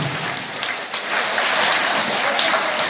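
An audience at a school students' performance event claps loudly and steadily, a dense, continuous wash of applause that stays strong throughout with no voices over it.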